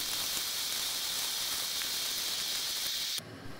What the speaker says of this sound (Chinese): 好啦，而家煎埋其余嗰两只蚝先。